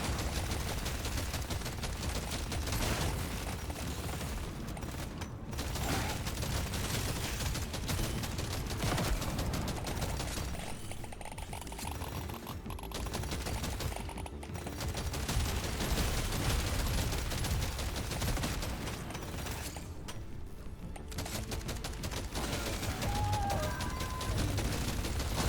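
Relentless gunfire in the game Deep Rock Galactic: Survivor, a dense nonstop fusillade of rapid shots and blasts that barely lets up across the whole stretch, with a few brief lulls.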